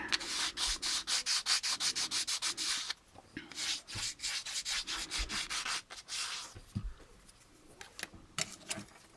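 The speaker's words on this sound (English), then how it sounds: "take our sandpaper here and just sand them off until they're nice and level with the rest of our piece here" Sandpaper rubbed by hand across a plastic model kit stand for a U.S.S. Enterprise, quick rhythmic scrubbing strokes in close, steady runs, then a pause and shorter uneven passes, fairly quiet with no voices.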